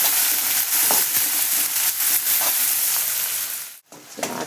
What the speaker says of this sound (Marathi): कापलेला कांदा आणि टमाटर टाकू. ते चांगलं परतून घेऊ.